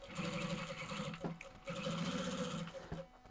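A Reliable 2700SZ direct-drive zig-zag sewing machine stitches in a steady, close whirring run, pausing briefly twice before resuming at the same pace.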